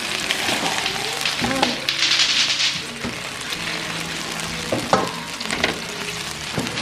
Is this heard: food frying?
yes